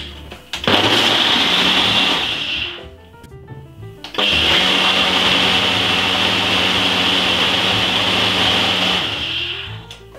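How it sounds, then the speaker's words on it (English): A blender blends a banana oat milk shake with honey, ice and chocolate: two loud, sustained motor whirs, the first about two seconds long, then after a brief pause a steadier run of roughly six seconds that winds down at the end. "So I'm gonna blend this about 3 to 4 minutes."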